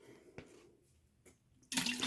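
Water suddenly starts running from a tap near the end, a loud gushing hiss after a quiet stretch with a couple of soft knocks.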